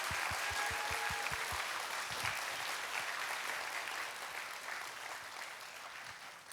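A church congregation at a Korean Baptist Wednesday worship service applauds its praise team. A few sharp, rhythmic claps at the start spread into broad, continuous clapping that stays full and gradually softens.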